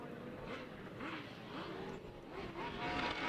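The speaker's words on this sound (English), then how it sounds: "They're frantically revving up. Revving up a little bit too quickly there." Several 1000cc grasstrack racing sidecars rev their engines on the start grid before a final, a loud continuous roar with rising and falling revs blending together, steady throughout.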